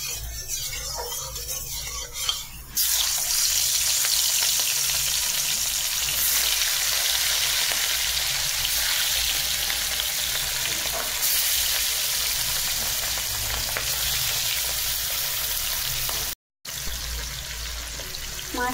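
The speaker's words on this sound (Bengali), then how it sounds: "মাছটা আমার ভাজা হোক" Fish frying in hot oil for a fish curry, heard as a loud, steady, close sizzle that bursts in after a quieter start and runs continuously, with one brief dropout near the end.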